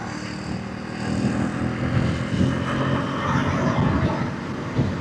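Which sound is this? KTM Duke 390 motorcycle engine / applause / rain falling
KTM Duke 390 motorcycle engine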